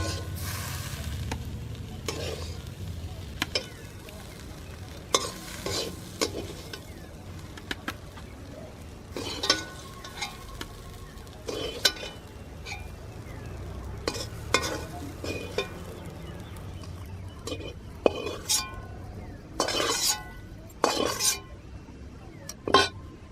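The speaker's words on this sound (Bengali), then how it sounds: "এবার আমি প্লেটে তুলে নিচ্ছি।" Cooked drumstick leaves, dressed with mustard oil, scraped and scooped from a pan onto a plate in a village kitchen, giving repeated soft scrapes and light clinks over a faint steady sizzle, with birds calling in the background.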